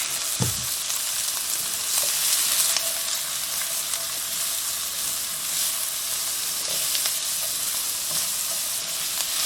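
Onion sautés in olive oil with a little salt and pepper, a steady close hiss of frying filling the whole stretch, broken by a few faint clicks and scrapes of stirring; no voices.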